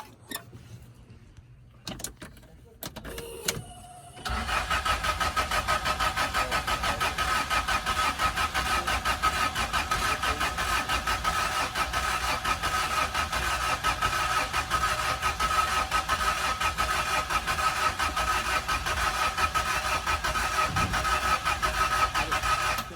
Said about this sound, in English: let's set the key up here